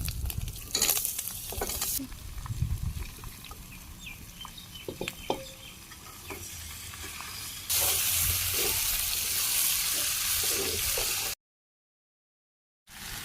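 Jackfruit pieces frying with ginger, onion paste and ground spices in a Bangladeshi village kitchen: steady sizzle and stirring scrapes, with a louder, denser hiss in the later part before the sound cuts out.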